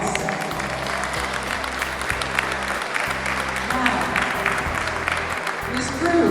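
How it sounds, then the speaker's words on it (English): A crowd at a Social Security party in a Bronx senior center gives a round of applause, steady clapping mixed with voices and a low droning background. "Let's have a round of applause."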